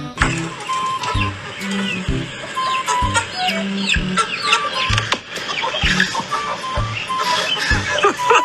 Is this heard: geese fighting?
yes